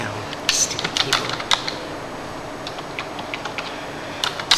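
Computer keyboard clatters with quick bursts of keystrokes, close and crisp, pausing briefly in the middle before resuming with scattered taps.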